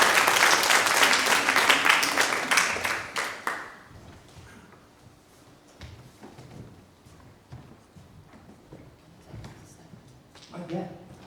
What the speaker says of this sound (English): give her a round of applause as she comes up to the stage